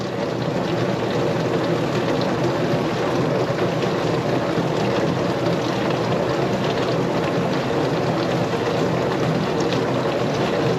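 GE dishwasher running after a pressure sensor replacement, a steady loud wash of spraying water and motor hum that holds constant throughout with no talk.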